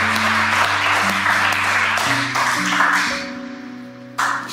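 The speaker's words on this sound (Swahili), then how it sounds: "Chapia Yesu makofi basi." A church congregation claps for Jesus during a youth service, the steady applause running under sustained keyboard or organ tones before thinning out near the end.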